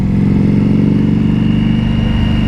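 2025 Indian Scout Bobber motorcycle with a new exhaust, a steady close idle with a deep, even low-pitched burble that holds unchanged throughout, with no voices.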